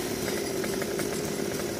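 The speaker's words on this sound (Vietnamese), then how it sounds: "Giờ anh Tùng phải cưa mấy cái nhánh mà dướng vô cái dây đó trước." A chainsaw cuts through tree branches near power lines in a garden, a loud steady buzzing drone close by with no pauses.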